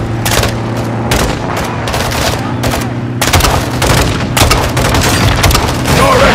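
Launcher blasts and gunfire in the Modern Warfare II shooter game on PS5, a dense run of loud booming explosions and rapid shots layered over a low rumbling battle bed, with shouted voices mixed in.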